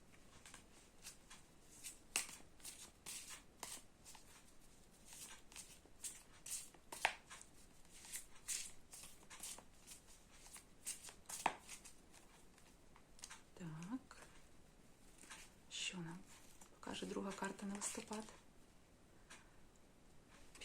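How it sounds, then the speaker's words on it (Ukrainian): Tarot cards riffle and slap in short bursts, a shuffling rhythm that repeats several times, with quiet speech in between. "Отже, тасуємо."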